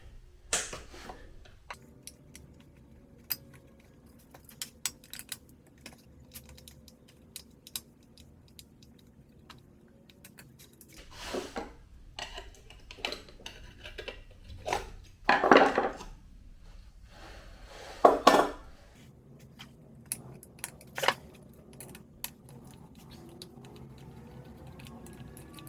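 The muffler comes off a Stihl 028 AV Super chainsaw during a rebuild: sparse metallic clicks, taps and scrapes of tools on the saw, with a few louder clunks and rattles in the middle, close and intermittent.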